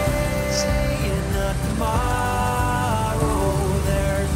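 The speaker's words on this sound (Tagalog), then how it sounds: "Guys, umuulan." Rain falls in a steady, continuous wash, with other background sounds mixed under it and no talking.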